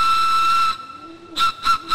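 A two-tone bamboo pigeon whistle tied to a flying pigeon's tail feathers sounds in Beijing, a steady airy whistling tone that cuts off, then returns in three short swelling bursts.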